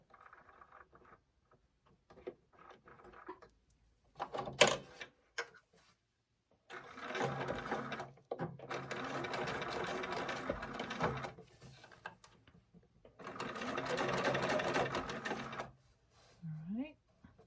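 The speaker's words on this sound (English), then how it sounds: "and just sew it down" A sewing machine stitching fabric down for a bunny bag runs in three steady whirring bursts, separated by short pauses filled with a few soft clicks and handling sounds.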